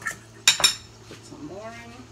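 Utensil clinking against a bowl while stirring miso into soup, two sharp clinks followed by soft scraping and swirling, fairly quiet with no talk.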